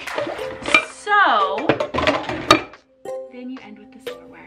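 Ceramic dishes and bowls clink and clatter as they are stacked in a kitchen drying rack, several close, sharp knocks and scrapes scattered through the clip alongside a woman's speech.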